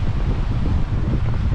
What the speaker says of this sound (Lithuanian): Vėjas šiandien didokas toks